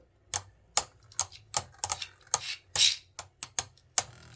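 Hasbro Beyblade Burst Turbo tops clashing in a plastic stadium, a string of sharp, close clacks and ticks spaced irregularly, with one longer scraping grind of spinning tops in the middle.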